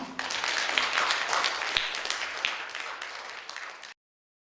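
An audience applauds to welcome a singer at a poetry concert, a continuous mid-level wave of clapping with a few sharper claps, cutting off abruptly near the end.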